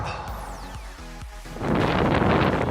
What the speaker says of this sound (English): hopefully you're out of the wind enough to hear me